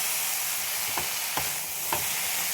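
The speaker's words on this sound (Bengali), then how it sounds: "এগুলো এইভাবে ভেজে নেব" Ridge gourd and pumpkin pieces fry in a pan, a dense, steady hiss of sizzling oil with three evenly spaced scraping strokes of a spatula.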